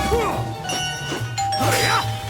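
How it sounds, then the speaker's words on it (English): A doorbell chime from a Sonic video game rings in repeated bright ding-dong tones, layered with game music and a voice talking over it. "If I'm playing Sonic, that doorbell, though, man, I've heard it enough"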